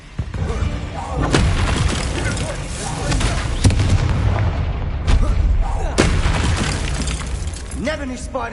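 Bombarda blasting spell firing in Hogwarts Legacy during a haunted Hogsmeade shop quest, with several loud booming impacts and debris crashes in dense, continuous game combat noise, spoken voice lines mixed in.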